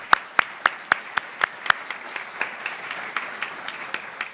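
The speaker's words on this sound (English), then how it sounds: "I think we also should give a big round of applause to Sue for and her team for all the work today." A small audience at an honoring event applauds, with distinct sharp claps in a quick even rhythm at first, then thinning into softer scattered clapping that fades toward the end.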